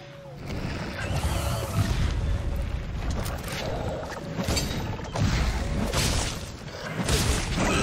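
Paolumu, a puffing flying monster in Monster Hunter: World, blasts air at the player: heavy, roaring gusts and booming whooshes that swell and fade in waves, loud and continuous over game noise.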